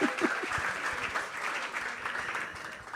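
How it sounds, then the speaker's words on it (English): Audience applause at a Vaishnava Vyasa Puja celebration, a steady wash of many hands clapping throughout, fairly close and full, with no voices standing out. "Let's give a round of applause"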